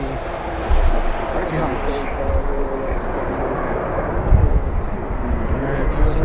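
A loud Boeing 787 Dreamliner jet arriving from Lisbon roars as a steady broad rumble throughout, with a person talking briefly over it.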